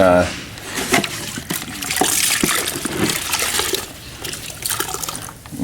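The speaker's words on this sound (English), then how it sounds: "take and wet sand it today" Sealer on a car body is wet sanded, with trickling, dribbling water and a soft scrubbing hiss close by while a person talks over it.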